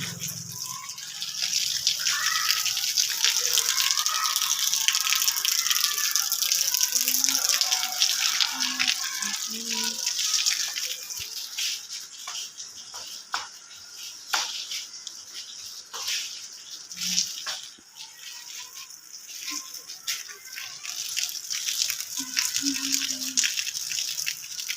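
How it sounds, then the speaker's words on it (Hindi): Heavy rain comes through a leaking house roof in a downpour, a constant splashing wash of water with dense patter and dripping that keeps going without a break, and faint voices are heard underneath. "सारे घर की छत है वो टपक रही है"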